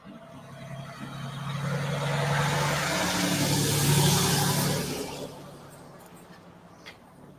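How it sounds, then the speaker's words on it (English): Heavy excavating equipment and trucks pass nearby at night, engine rumble swelling to a loud, broad roar over several seconds, then fading as they drive away, leaving quieter idling and a few faint clanks. "what you can see right now is heavy excavating equipment being driven away from this site"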